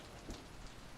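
Steady rain from a played music video, a dense even hiss of falling drops with a soft thump near the start, fairly quiet and continuous with no talking.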